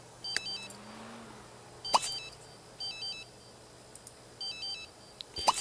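In The Sims 3, a telephone rings with a repeating electronic warble. Bursts sound at regular intervals, separated by sharp clicks, over a quiet hum, and no one talks.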